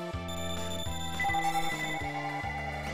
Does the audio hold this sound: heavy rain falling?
no